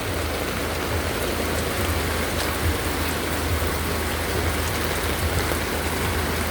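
Steady, dense rain falling during a flood, a continuous wash of hiss with a low rumble beneath, no voices.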